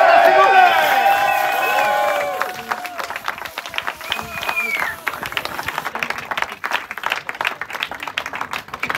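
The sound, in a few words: applause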